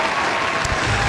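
Audience applause fills the whole moment, a steady dense wash of clapping that holds at an even level from start to finish with no voices over it.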